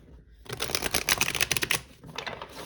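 A deck of tarot cards gets a quick riffle shuffle, a dense flurry of crisp papery flicks lasting about a second and a half, quiet and close, followed by a softer brief shuffle.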